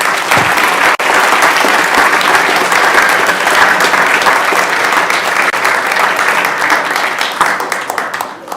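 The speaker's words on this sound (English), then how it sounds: "let's just give them another round of applause" Audience at a school board of education meeting giving a high school basketball team a loud, sustained round of applause, many hands clapping densely and steadily before easing slightly at the end.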